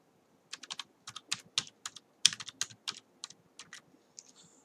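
Fingers tap out an email address on a computer keyboard, giving a quick, uneven run of close, crisp keystrokes in short bursts against a quiet background.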